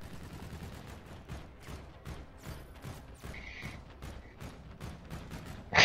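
Rapid bursts of gunfire in the shooter game Call of Duty: Infinite Warfare, dense repeated automatic shots running throughout with a louder burst at the end.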